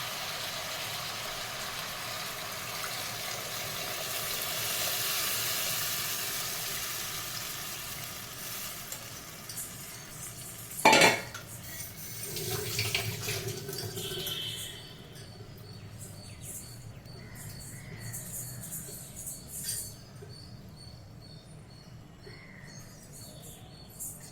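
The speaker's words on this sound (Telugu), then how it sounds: "ఇప్పుడు ముక్కలు వేగిపోయి వాటర్ పోయిస్తున్నాం," Tamarind water poured into a pan of fried elephant foot yam pieces for a tangy stew, with a soft continuous sizzle, a sharp splash, then quieter bubbling and faint stirring, close and moderately quiet.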